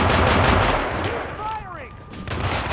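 Rapid gunfire in the Hitman video game crackles in loud, dense bursts, with brief quieter gaps and a ringing tone mixed in, all close and overwhelming.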